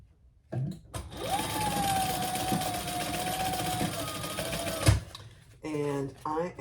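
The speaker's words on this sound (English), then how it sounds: "So let's sew down both sides." A sewing machine stitches down both sides of a purple crossbody bag in one steady, continuous run of about four seconds, loud and close, with brief handling noises before and a voice speaking after it stops.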